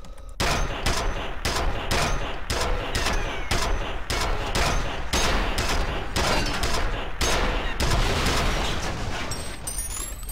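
A gun fires in the shooter game F.E.A.R. in a long run of evenly spaced, sharp, loud reports, each shot ringing out as the clip is emptied, with no talk over the barrage.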